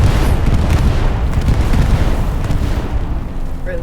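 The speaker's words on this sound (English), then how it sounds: "Bomb and run just hit the point" Bombing-run explosions in Hell Let Loose rumble as a loud, continuous, dense low booming wash that fades slightly toward the end, with no talk.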